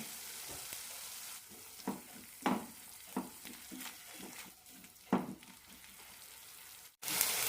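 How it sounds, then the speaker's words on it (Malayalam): Sliced onions for a Kerala chickpea curry sizzling and frying in a pan, a steady hiss broken by repeated bursts as they are stirred, close and moderately loud, ending abruptly. "സവാളയിൽ വെള്ളമെല്ലാം വറ്റി ചെറുതായൊന്ന് ഗോൾഡൻ ആവണം"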